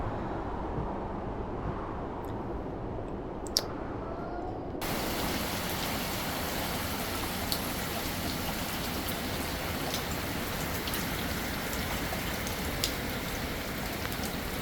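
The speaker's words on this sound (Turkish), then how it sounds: "Hiç durmadan yağıyor ya" Steady heavy rain pours without pause in a dense, even hiss that grows louder partway through, with a few faint drips and knocks over it, after a storm in Norway.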